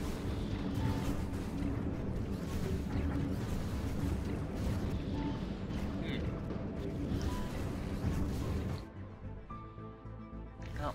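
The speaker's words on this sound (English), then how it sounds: "The spaceport's also being destroyed as well. It's been the target of most of the weapons fire." Space battle weapons fire from a Stellaris fleet engagement with rail guns as a spaceport is destroyed: a dense, continuous barrage of booming blasts and rumbling impacts that thins out near the end, with a voice talking over it.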